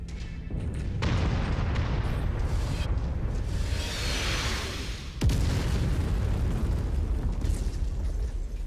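Repeated artillery explosions in a mech combat game, deep booming blasts over a constant roar, with one heavy close impact partway through and no talking.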